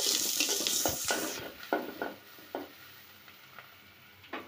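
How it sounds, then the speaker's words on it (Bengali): Potatoes fry in a pan with a bright sizzle that fades after the first second, followed by scattered stirring scrapes and clinks at close range. "আলু ভাজি করব"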